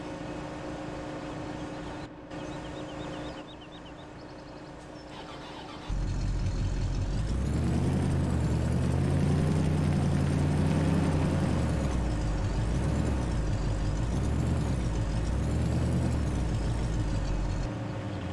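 A truck idles, then its engine swells louder and steadier as it is moved into place in Farming Simulator 17 on the Emerald Coast map, with a short air-brake hiss early on; no talking.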